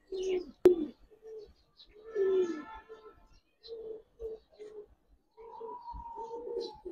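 Giribaz pigeons of big size, a breeding male and female, give soft, low cooing calls in short repeated phrases. They are close but faint, and a sharp tap and some light rustling sound among the calls.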